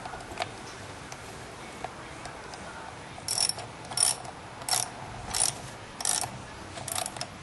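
Ratcheting clicks from bolts being tightened on an Echo PE 200 edger, about six short bursts spaced roughly half a second apart, close and moderately loud.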